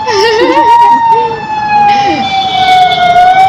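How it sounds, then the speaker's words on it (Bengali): A loud ambulance siren holds a high steady wail nearby while people talk over it. "না রে, অ্যাম্বুলেন্স।"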